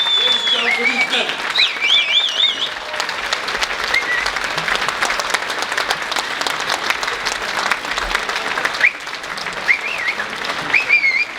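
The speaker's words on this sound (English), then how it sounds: "Standing ovation, ladies and gentlemen, for these men" Standing ovation at an Islamic academy elementary campus fundraising dinner, loud sustained applause from a large crowd with whoops and cheers rising above the clapping throughout.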